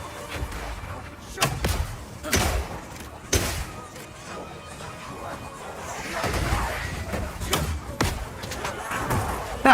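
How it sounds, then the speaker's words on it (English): A crossbow fires oil grenades in Path of Exile 2 with a Mercenary. Several sharp, loud thuds and whip-like shots come at spaced intervals, and a hissing, splattering wash builds toward the end. "Firing one of these grenades coats the ground and nearby enemies in oil."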